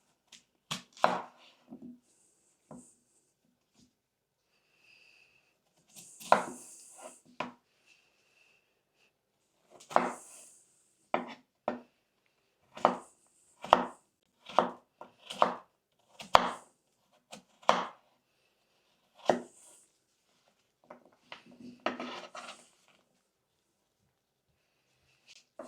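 A knife cuts potatoes into pieces on a cutting board, giving a run of crisp close chops in uneven clusters with short silent pauses between strokes and no talking.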